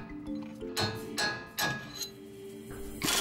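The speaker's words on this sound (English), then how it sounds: "Tap the link out of the knuckle using a brass hammer." Brass hammer tapping a sway bar link out of the steering knuckle on a 2016 Toyota Tacoma during a leveling kit install: several sharp metallic clinks at irregular intervals, close and fairly loud, with faint shop hum between strikes.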